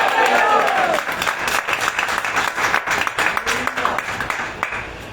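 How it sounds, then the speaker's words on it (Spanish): A church congregation applauding, a dense burst of clapping that gradually thins into scattered claps, with voices heard among it. "Si va a aplaudir, diga gloria a Dios."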